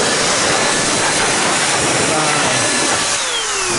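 A handheld blaster-style car dryer blowing air over a freshly washed Porsche GT3 RS, a loud continuous roaring whoosh of forced air, steady and close throughout with a slight easing near the end.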